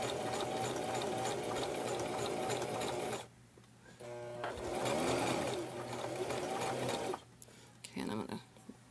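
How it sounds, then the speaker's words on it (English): A sewing machine stitches a fabric seam on a baby hat, running in long steady bursts with short pauses between them. "want my fabric to be loose as it's sewing through here"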